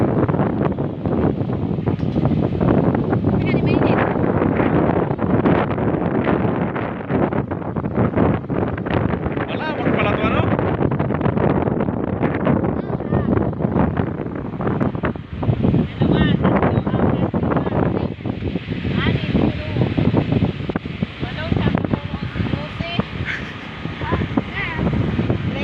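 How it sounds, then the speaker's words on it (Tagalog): Strong wind roars steadily at a hilltop overlook in Pililia, Tanay, buffeting the microphone loudly and continuously, with people talking underneath. "Lakas ng hangin."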